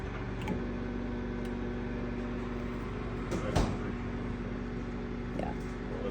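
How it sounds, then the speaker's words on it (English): A microwave oven runs on a timed cook at power level 4 while dog food is prepared, giving a steady close hum with a sharp click near the middle and faint kitchen handling sounds. "There's your time cook 20, power level 4 in the microwave."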